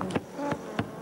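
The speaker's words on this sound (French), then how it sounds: "La mouche." A housefly buzzes in short, close bursts, three distinct passes with brief quieter gaps between them.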